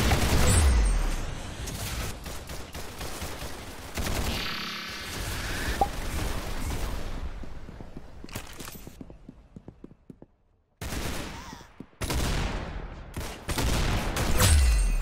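Rapid gunfire from weapons in the Roblox game Arsenal, loud bursts of repeated shots filling most of the stretch, broken by short gaps and brief silences.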